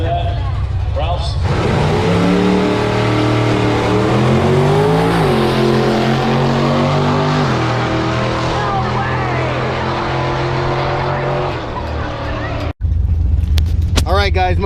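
A 1717 Typhon RC drag car on a 6S battery makes an eighth-mile pass on a drag strip, its electric motor a loud rising whine that climbs in pitch and holds, then cuts off abruptly, with talk around it.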